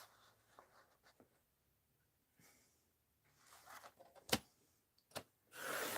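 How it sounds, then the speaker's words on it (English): Scissors trimming paper backgrounds for an art journal into small 2.5 by 3.5 pieces, a few soft quiet snips and paper rustles with pauses between, ending in a louder burst of handling. "Let's cut the backgrounds first here."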